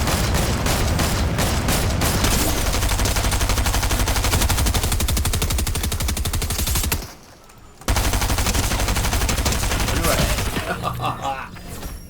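Rapid automatic gunfire crackles loud and dense from a Fortnite Chapter 3 Season 2 match, with a brief near-silent gap before the shooting resumes and then tapers off.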